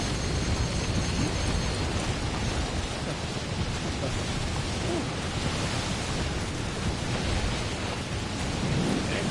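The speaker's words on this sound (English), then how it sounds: "It's quite a storm." A thunderstorm in the Death Stranding video game: steady, loud, dense rain hiss with low rumbling thunder throughout, no voices.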